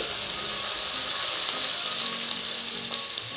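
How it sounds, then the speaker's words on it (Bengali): Water poured onto fried onions in a hot pan, producing a loud, dense, continuous hiss and sizzle close up for the whole few seconds. "এই যে দেখো এরকম ভাজা হয়েছে এর মধ্যে হচ্ছে এরপরে জল ঢেলে দিচ্ছি"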